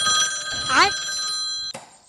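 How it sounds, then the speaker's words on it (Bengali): A telephone rings in one short, bright trilling burst that stops abruptly, with a voice briefly over it. "এই অবেলায় আবার কে ফোন মারাচ্ছে?"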